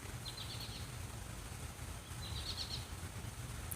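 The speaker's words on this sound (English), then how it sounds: "I can even hear the birds chirping now." Birds chirp faintly outdoors in a yard, two short bursts of high tweets over a steady low background hum.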